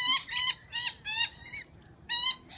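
Birds give loud, harsh squawks in quick bursts, four close together and then one more after a short pause, near the microphone with little else around them.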